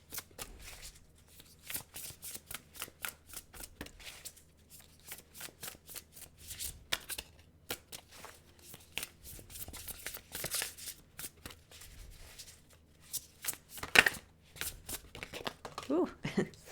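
Tarot cards are shuffled by hand in quick riffling bursts, soft and close, repeating in uneven rhythm with brief pauses and someone speaking quietly at times.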